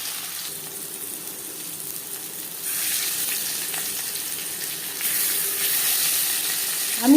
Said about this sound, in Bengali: দিয়ে দেবো ম্যারিনেট করে রাখা মাছ।